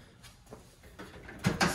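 A cabinet file drawer in a home workshop slides open with soft scraping and a few sharp clunks and rattles near the end, heard close and fairly quiet.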